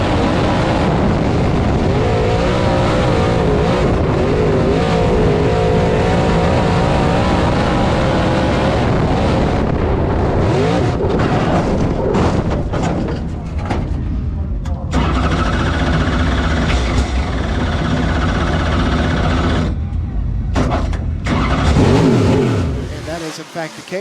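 Race cars lapping a short oval at Swainsboro Raceway, a dense, continuous roar of engines near and loud with passing cars swelling and fading, while an announcer talks over the racing.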